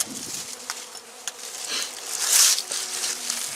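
Honey bees buzz around a dead-out hive in winter, a close, continuous droning hum with small scrapes and taps mixed in throughout.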